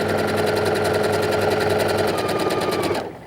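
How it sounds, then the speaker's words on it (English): A sewing machine runs steadily while back stitching a seam on a child's garment, a close, even whirring that lasts about three seconds before cutting off. "I always back stitch at the beginning of my seams"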